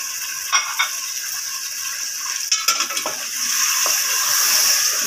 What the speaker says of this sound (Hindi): ये देखें, मैंने यखनी ऐड कर दी है इसमें, अब मैं इसे अच्छी तरह भूनूंगी